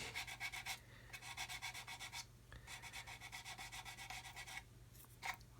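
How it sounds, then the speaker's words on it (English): A clear plastic model part being sanded with a skinny sanding stick, heard as close, rhythmic back-and-forth scratchy strokes in quick repeated bursts with brief pauses between sets. "I'm going to get a skinny stick in here for this one. Get in there and just sand that away."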